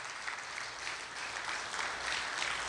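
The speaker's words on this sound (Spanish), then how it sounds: "Ese aplauso es para el Señor" A church congregation claps together during a sermon, a dense, fairly soft patter of many hands filling the moment without voices.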